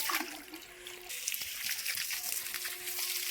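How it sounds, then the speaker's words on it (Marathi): Water runs steadily from a tap, a constant bright hissing rush with a faint trickle, fairly quiet and uninterrupted. "नळ आले पाणी भरत आहे मी"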